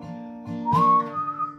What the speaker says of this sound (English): Yeah, the whistle now.